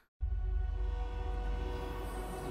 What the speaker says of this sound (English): There's a train on the map!